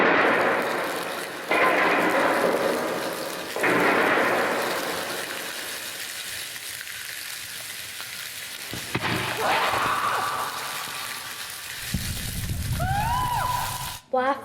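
Homemade storm and lightning effects made by children hitting blocks and other materials, with a flipped-over table, come as loud rushing noise bursts, then a deeper rumble near the end, with voices talking throughout.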